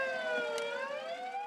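Fire truck siren wailing in a narrow residential alley, a steady rising-and-falling tone close by and loud, carried alone for the whole moment.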